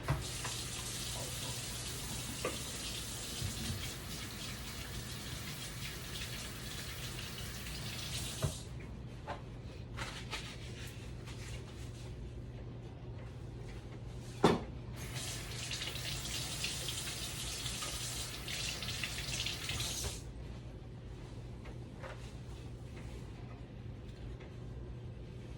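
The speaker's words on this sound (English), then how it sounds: "So let me wash my hands." Tap water runs steadily into a kitchen sink as hands are washed beneath it, a broad hiss that stops partway and then starts again, close and moderately loud with no talking.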